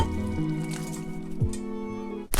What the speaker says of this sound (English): Now I'm going to add the pasta.